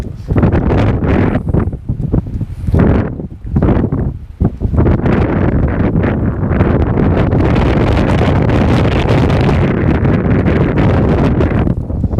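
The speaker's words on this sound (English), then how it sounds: "That wind picked up." Strong gusty wind buffets the microphone outdoors at a fishing spot, rough and roaring, with short lulls early on before a continuous loud rush; no one speaks.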